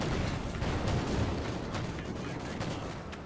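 Dense, continuous machine gun fire in a World War II tank video game match, a steady rattling barrage mixed with distant battle rumble, fairly faint and without pauses.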